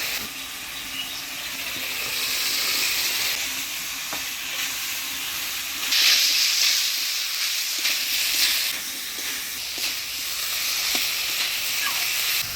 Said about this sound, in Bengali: মশলা থেকে তেল ছেড়ে দিছে, মশলাটা আমি ভালোভাবে কষিয়ে নিলাম। এবার দিয়ে দিচ্ছি সিদ্ধ করে রাখা কাঁঠাল।